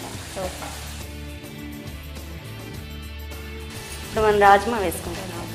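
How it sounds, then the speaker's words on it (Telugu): Soaked rajma kidney beans dropped into a hot pan with mint, a steady close sizzle and frying hiss with stirring clatter as a voice talks over it. "ఇప్పుడు మనం రాజ్మా వేసుకుందాం"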